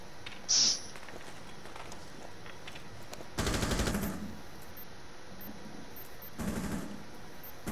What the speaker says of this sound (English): They're shooting down hookah window right now.